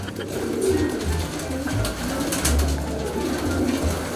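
Pet pigeons coo steadily while feeding, low repeated throaty calls close by over a soft background hum, with no talking.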